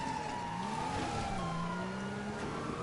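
A car's siren wails steadily over a loud engine drone, its gliding tone rising and falling continuously for the whole stretch with no voices present.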